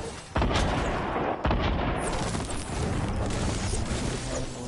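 Heavy gunshots boom out in a shooter video game, a few sharp, loud reports punching through a dense, continuous rumble of battle noise.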